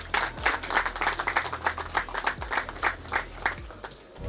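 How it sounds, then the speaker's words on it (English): A crowd claps steadily in a quick, even rhythm at a hookah competition, moderately loud, with no voices over it. "please applause for the team"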